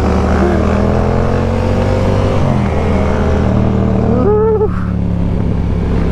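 A Yamaha R7 motorcycle engine accelerating from the rider's seat: a loud, continuous drone rising in pitch through the gears, with a brief shift dip near the end and wind noise throughout.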